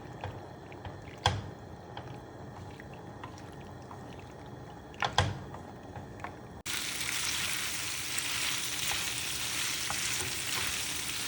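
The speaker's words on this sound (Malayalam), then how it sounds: "നല്ലോണം മിക്സ് ചെയ്ത് പാസ്തയിലെ വെള്ളമൊക്കെ നല്ലോണം വറ്റിച്ചെടുക്കുക" Broccoli pasta being stirred in a pan as its water cooks off, a steady sizzle with two sharp utensil scrapes early on, then a louder, denser frying hiss for the rest, close and with no voices.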